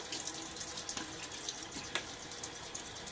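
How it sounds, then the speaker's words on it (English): A tap runs steadily into a sink while someone shaves, a continuous close splashing gush of water with faint drips and no talking. "Let me get a little water."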